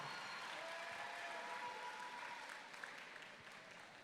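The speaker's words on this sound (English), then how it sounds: "Another round of applause for Jake Capistrant" Audience applauding steadily at a high school student talent show, a full, even wash of clapping that fades slightly toward the end, with no voices over it.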